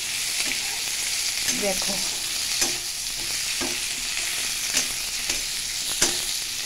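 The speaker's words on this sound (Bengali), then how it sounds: "দেখো এটাকে ভালো করে ভেজে নেব।" Figs sizzle steadily in a pan as they are fried with crab and stirred now and then, giving soft scraping clinks over a constant hiss; a brief word is spoken.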